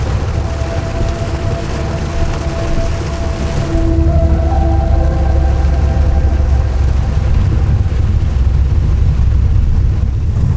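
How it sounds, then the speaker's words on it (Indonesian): Heavy rain pours down steadily in a dense, loud roar that continues throughout, growing slightly heavier partway through, with a faint tone in the background and no talking. "Hujan deras mulai turun."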